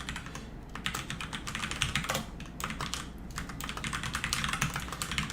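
Steady, close typing on a computer keyboard, with rapid keystrokes clattering continuously and fairly evenly for several seconds, and no voices over it.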